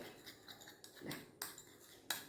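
A spoon clinks and scrapes against a small bowl while blending honey with aloe vera gel, several quick taps and stirs close up, quiet and intermittent.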